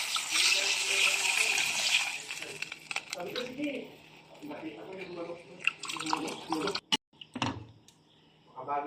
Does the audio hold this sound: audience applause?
no